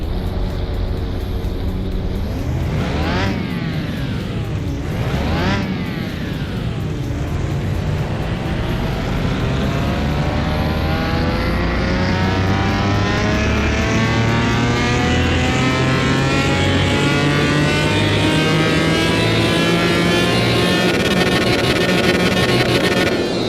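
A car engine runs on a dyno in Car Mechanic Simulator 2021, loud and close: a couple of quick revs blip up and fall, then a long steady climb in pitch as the throttle holds through a full pull, with no voices.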